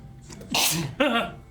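A person sneezes once in a room, a short intake followed by a sharp, loud burst with a trailing breathy release.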